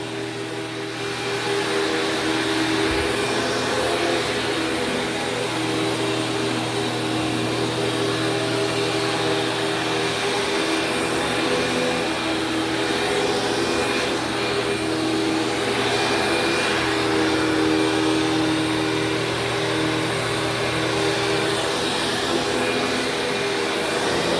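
A Kenmore vacuum cleaner runs on carpet, a loud, steady motor roar with a whining airflow hum that holds nearly constant for over twenty seconds, close by and without any talking.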